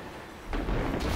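A Sparrow vehicle explodes close by in the video game Destiny 2, a sudden heavy boom that swells into a loud, rumbling roar and holds to the end.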